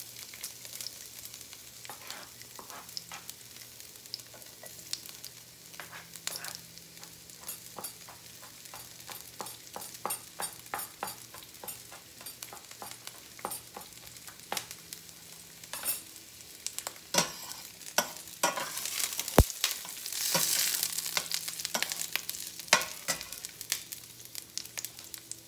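Onions sizzling and frying in a pan while being stirred, with scraping stir strokes over a steady hiss, fairly close and alone, part of cooking crab in coconut milk with malunggay.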